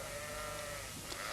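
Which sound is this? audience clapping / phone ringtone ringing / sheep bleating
sheep bleating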